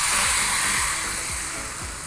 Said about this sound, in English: Now I'm going to deglaze the pan and lift off all of that beefy kind of stuff stuck to the bottom of the pan